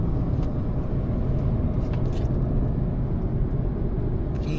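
A car cruising along a road toward Cap d'Agde, heard from inside as a steady low engine and tyre rumble that is loud and unbroken, with a few faint clicks.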